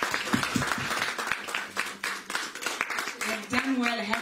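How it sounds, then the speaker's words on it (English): A church audience applauds with a steady wash of clapping that continues throughout, while a voice speaks over it. "Let's give him a round of applause."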